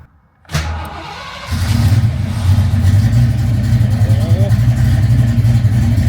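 A Ford 5.0 HO Foxbody Mustang V8 with Holley Terminator X fuel injection gives a sharp click, cranks briefly, then catches and settles into a loud, steady, slightly uneven idle close by.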